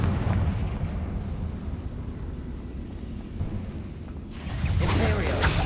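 A Confringo explosive spell from the Hogwarts Legacy video game detonates, with a continuous booming rumble through most of the clip that swells into a louder, brighter burst near the end.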